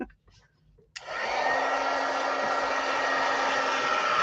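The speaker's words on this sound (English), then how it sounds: "All right, let's heat emboss that. It's gonna get noisy." A heat embossing tool switches on with a click and blows a loud, steady rush of hot air over a handmade card, close and continuous.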